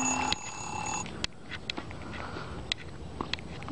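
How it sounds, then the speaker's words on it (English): A phone alarm sounds indoors in the early morning, a faint repeating electronic tone that rings for about a second before stopping, followed by scattered small clicks and taps. "And that's my alarm saying I have to leave."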